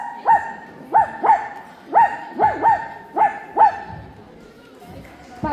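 A person imitates a puppy barking with about eight sharp, high yapping barks in an uneven rhythm, loud and close, and the last bark trails off near the end.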